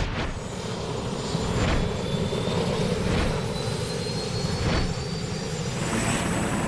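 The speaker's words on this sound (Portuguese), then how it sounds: "O helicóptero levanta voo da lateral do Estreito de Kobe." Helicopter lifting off beside the Akashi Strait near Kobe, a steady close rotor and engine roar with faint rhythmic blade thumps, no voices.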